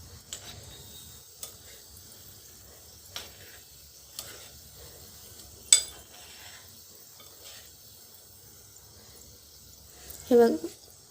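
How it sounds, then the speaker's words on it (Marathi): Gulab jamun made from wheat flour fry in oil over a very low flame, giving faint, sparse pops and ticks against near silence, with a brief louder scrape near the end. "एकदम मंद आचेवर याला तळायचं आहे"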